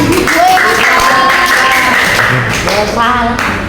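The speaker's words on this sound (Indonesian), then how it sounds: "Oke, tepuk tangan" A classroom of children claps their hands together in a loud, busy patter, mixed with many voices calling out at once.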